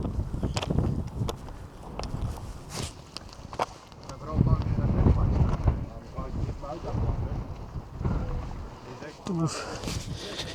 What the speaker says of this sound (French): Il y a du vent, du vent.